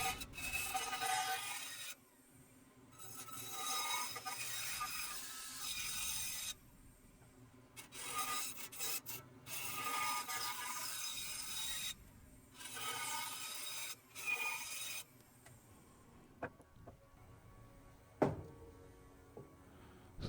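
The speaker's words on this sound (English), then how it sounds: "the bandsaw blade is not that sharp, so you'll see it kind of cuts semi-round" A bandsaw with a dull blade cuts through a split wooden bowl blank, a steady rasping grind that rises and falls in several passes, then quiets near the end with a few knocks.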